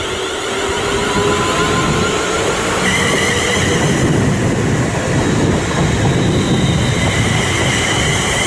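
A train rumbles through Watford Junction on the West Coast Main Line, a loud, steady roar of wheels and motors close by that holds for the whole stretch, with a faint high whine over it.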